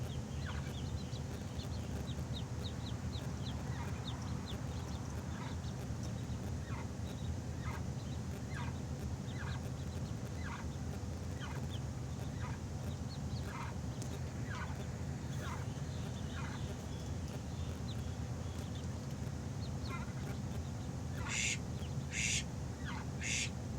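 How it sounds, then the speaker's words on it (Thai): Soft, repeated quacking rises from a flock of ducks and ducklings of a quiet-voiced breed over steady background noise, with a few sharper calls near the end. "เป็ดสายพันธุ์นี้นี่ข้อดีก็คือจะร้องไม่ดังนะคะ"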